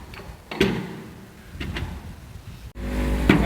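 A fuel truck engine idling close by, a steady low rumble with a few knocks and clunks layered over it and a brief dropout before the engine note rises slightly.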